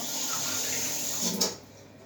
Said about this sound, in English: I'm just going to get some warm water.